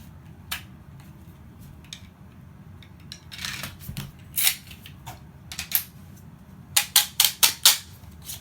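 Sharp clicks and snaps from an ETS C.A.M. mag loader pushing 9mm rounds into a Glock magazine, with scattered single clicks at first, then a quick run of four or five loud clacks near the end.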